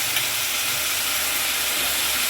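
Tomatoes and drumstick pieces sauté in a pan for a tamarind curry, giving a steady, close, loud sizzling hiss with no pauses and no voices.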